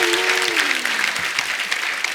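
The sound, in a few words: audience applause on a TV comedy show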